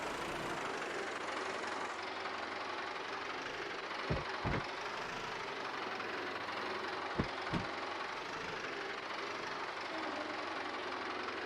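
A small tractor engine in Farming Simulator 22 runs at a steady idle-like drone, with a couple of short low thumps around the middle and no talking.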